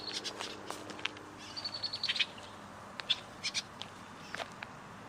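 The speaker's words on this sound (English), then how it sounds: "No ducks today, just little brown birds." Little brown birds chirping around a small wet bog area by a duck pond: scattered short, high chirps and tweets, fairly faint and outdoors, coming in irregular bursts over a quiet background.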